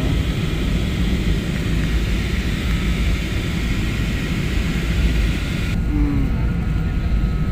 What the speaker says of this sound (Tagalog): Palanding na kami guys ito sa Calabo Airport